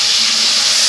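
Taro roots dropped into hot boiling oil set off a loud, steady sizzling hiss, close and continuous for a brief moment, with no voices.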